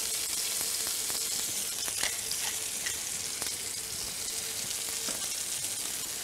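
Foie gras escalope sizzling and frying steadily in a hot pan, a dense continuous crackle with occasional sharper pops, close and fairly loud throughout with no talking.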